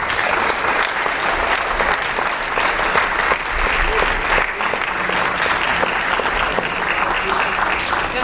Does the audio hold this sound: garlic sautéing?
no